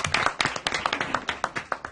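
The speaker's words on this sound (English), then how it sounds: "they both deserve a round of applause because they were awesome" A round of applause for the organisers of Haymarket Day at a mayor and council meeting: a small crowd claps steadily and evenly for about two seconds, with moderate loudness and no talking over it.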